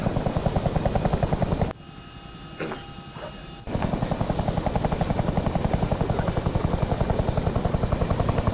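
Helicopter in the video game 6th Airborne Division, a loud, steady rotor chop heard from close by that briefly drops away for about two seconds and then returns at full strength.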